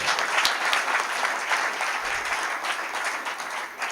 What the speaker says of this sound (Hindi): तो तालियां बजाते रहें